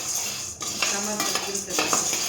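Turmeric root and whole spices being dry-roasted and stirred in a metal pan, with close scraping and clinking of a utensil against the pan in an irregular rhythm, no talking.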